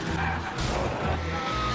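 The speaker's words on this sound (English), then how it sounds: "That's how I feel about the car sounds in this game." A race car engine roars with tires squealing and skidding in a short, continuous burst, loud and close, in the racing video game L.A. Rush.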